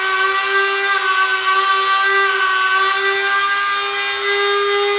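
An electric generator motor runs with a loud, steady high-pitched whine, its tone wavering slightly as the speed shifts, close by and alone.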